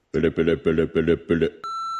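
A single steady voicemail tone sounds clearly after a string of five rhythmic voiced bursts, holding flat and loud to the end.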